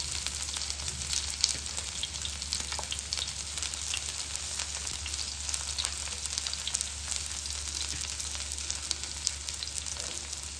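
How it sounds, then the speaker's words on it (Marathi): Okra frying in oil on a griddle over a low gas flame, a steady low sizzle with faint crackles and occasional stirring, continuous and close. "आता अगदी बारीक गॅसवरती ही भेंडी आपल्याला तेलामध्ये फ्राय होऊन द्यायची आहे।"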